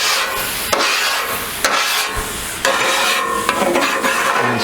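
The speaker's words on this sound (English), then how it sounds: "We just scrape all of this back." Metal scraper dragged across a flat top griddle after water is dumped on it, loud close scraping strokes with hissing sizzle and a few clanks, no talk.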